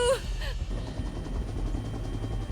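Helicopter rotor noise rumbles steadily and loud throughout, a low thumping drone that starts just after a brief voice at the opening.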